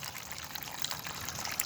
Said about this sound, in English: There goes the Gnome fountain, water fountain. Has a good flow right there.